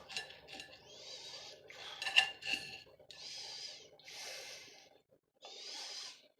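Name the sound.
cutting Brussels sprouts in half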